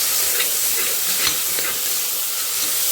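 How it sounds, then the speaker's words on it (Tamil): Tomato, onion, coriander and mint sauté in a hot pan with a loud, unbroken sizzling hiss up close, and a few faint stirring scrapes sit beneath it. "எல்லாத்தையும் சேர்த்து நல்லா வதக்கிக்கிறோம்"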